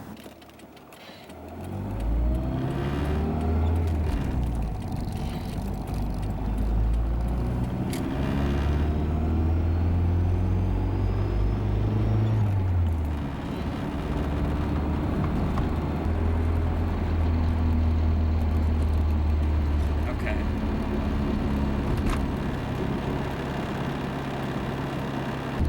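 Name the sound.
1985 Toyota Celica GT-S driving on test drive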